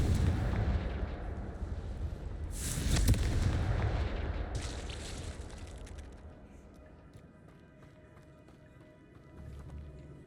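Confringo spell explosions from Hogwarts Legacy boom in a dense, rumbling sequence, one sharp loud blast near the start of the third second amid continuous combat noise that fades to a quieter bed later, with no talk.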